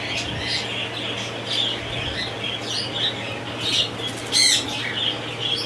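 A breeding pair of ringneck parrots on a Faisalabad farm flaps its wings in soft, repeated flutters, with a sharp louder burst near the end and faint chirps over a steady background hum.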